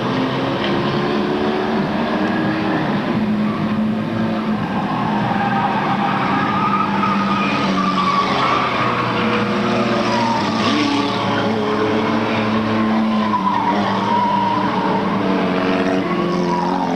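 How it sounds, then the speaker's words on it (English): Race cars speeding around a track at a 1997 race meeting, a loud, continuous engine drone that rises and falls as cars pass, with no break for the full length. "number two, Turbo Man is still your current race leader"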